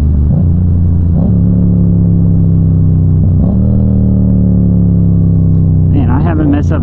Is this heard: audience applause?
no